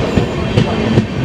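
North East Super Express train pulling into a station platform, a steady rolling rumble with a few distinct clacks of wheels over rail joints, fairly close and loud.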